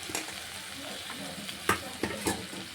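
Chopped onion tossed into potatoes frying in a pan, a soft ongoing sizzle broken by a few sharp stirring scrapes and clatters near the end, close by and without speech.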